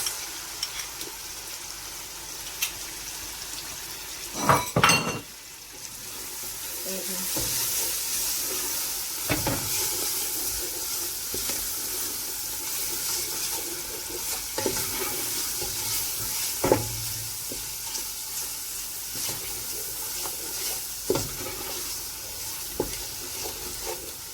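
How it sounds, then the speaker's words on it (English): Oil sizzles and crackles steadily in a pan of tomato paste frying, with a few sharp clanks of a spoon stirring and scraping against the pot. "See, the oil is bubbling in between the tomatoes."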